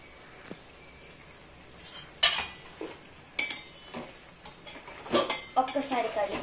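Rice goes into a pot of boiling water for a bottle gourd biryani, heard as scattered metallic clinks and scrapes of a spoon against the pot, quiet between bursts and busier toward the end.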